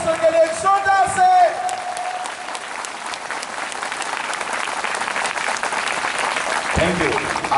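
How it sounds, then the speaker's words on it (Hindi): A church congregation at a Hindi Christian sermon breaks into sustained, dense applause that fills the room steadily for several seconds, with the pastor's voice heard over the start of the clapping. "अरे बढ़िया ताली जरा बजाओ, गर्मा गर्म ताली"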